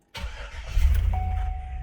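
A GMC Yukon, an old cheap one with its check engine light on, cranks briefly and fires up, settling into a steady low idle nearby, with no talking.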